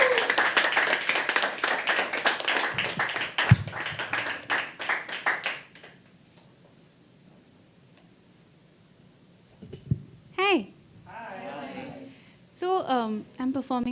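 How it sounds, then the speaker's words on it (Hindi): An audience at a live poetry reading claps in a brisk, close burst that fades out after about six seconds, followed by near silence and then a few spoken words. "दोस्तों, अगले कलाकार के लिए प्लीज़ तालियां बजाना शुरू करिए, शुरू करिए"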